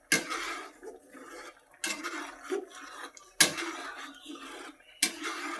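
Boiled pasta drained and rinsed in a pot, with bursts of running, splashing water broken by brief metal clanks of the pot, in four separate surges, close by.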